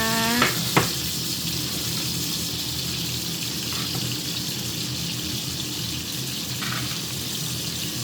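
Shrimp stir-fried with holy basil in a pan, giving a constant loud sizzle with a few sharp clinks and scrapes near the start.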